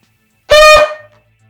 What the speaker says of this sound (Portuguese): shofar é um instrumento musical muito antigo, feito com o chifre de carneiro ou com o chifre de antílope